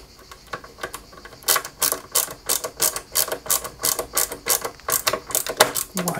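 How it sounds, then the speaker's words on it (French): A small screw is driven into the body of a Lancia 037 scale model car kit, producing a quick run of sharp ratcheting clicks in a steady rhythm, close and clear with no talk. "on y met une vis CM pour maintenir la carrosserie"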